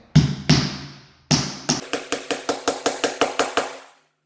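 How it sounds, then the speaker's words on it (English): Repeated hammer strikes driving a nail into plywood: two solid blows, a pause, then a steady run of about a dozen quick, sharp knocks, close and loud. "it's easy to bang in with a hammer and nail"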